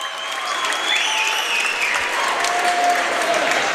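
A basketball crowd at a boys' high school playoff game bursts into sustained applause and cheering during a timeout, filling the gym with dense, continuous clapping for several seconds.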